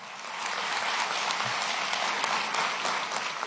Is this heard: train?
no